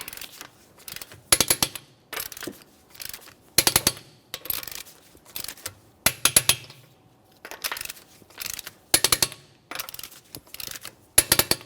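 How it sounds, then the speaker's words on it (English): Clicking ratchet bursts come in short repeated groups as a torque wrench tightens the wheel lug nuts on a 2015-2019 Subaru Outback in a crisscross pattern. The sound is close and crisp, with brief quiet gaps between the bursts. "we're going to torque these to that 90 foot-pounds in a crisscross manner"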